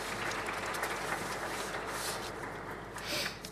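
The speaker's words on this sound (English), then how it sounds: "an applause for the finalists of the DIGI Awards 2022 competition" Audience applause at the DIGI Awards 2022 conference ceremony honoring competition finalists, a continuous wash of many hands clapping, fairly loud and sustained, swelling slightly near the end.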